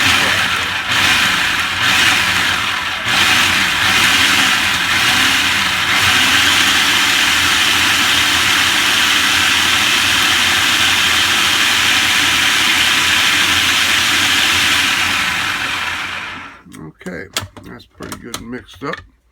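Food processor pulsing chilies and other ingredients for a Mexican meal, a loud continuous whirring roar with a few short bursts early on, then cutting off abruptly into quiet clatter and handling noises.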